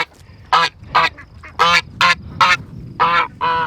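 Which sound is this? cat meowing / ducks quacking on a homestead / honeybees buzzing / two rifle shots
ducks quacking on a homestead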